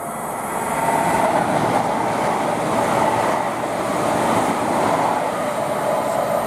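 A Class 807 passenger train bound for Liverpool Lime Street passes at Tamworth on the West Coast Main Line, a loud, steady rushing roar of wheels and motors that holds close for several seconds.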